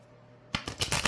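After a quiet start, tarot cards riffle and slap together in quick, crisp bursts, close and fairly soft.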